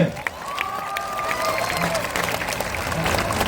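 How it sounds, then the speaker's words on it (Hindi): A crowd applauds a teacher at a political party's founding-day gathering, giving a steady, roomy wash of clapping mixed with cheering and voices that swells gradually toward the end. "इनके लिए ताली बजाइए जोर से"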